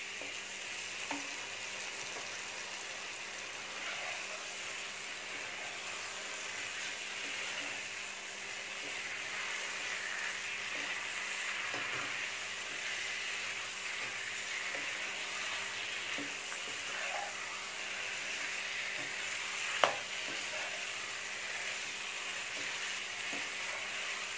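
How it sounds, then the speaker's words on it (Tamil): Fried chicken pieces being stirred into masala in a pan, a steady continuous sizzle of frying with occasional faint scrapes and clicks of the spoon, no voices. "சேர்த்து நல்லா கிளறி விட்டுக்கிட்டே இருங்க"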